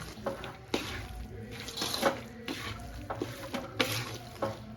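Mawa, a milk solid, being stirred into a thick Salampak sweet mixture in a pan, with close, repeated scraping and squishing strokes in an irregular rhythm over a soft sizzle.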